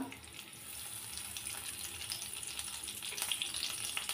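Chopped onion, green chili and bay leaf fry in hot oil in a pan, giving a steady, close hiss with small crackles and pops that build slightly over the stretch.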